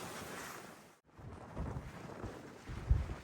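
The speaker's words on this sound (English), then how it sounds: "very windy at the moment." Wind buffets the microphone in rough gusts near Oldbury Power Station, briefly dropping out before returning with low rumbling thumps.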